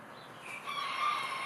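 A chicken calls near a small backyard forge, a short soft vocal rising into a brief bright note partway through, fairly faint and alone with no talk.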